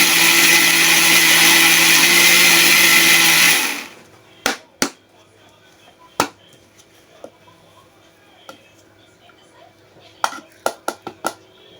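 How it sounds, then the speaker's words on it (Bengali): A blender grinds mustard seeds into powder with a loud, steady whir for several seconds, then stops, followed by scattered knocks and clinks of the jar and utensils. "যেমন সরিষা আছে, চালের গুঁড়ো আছে, ব্লেন্ডার মেশিনে নিতে পারবেন"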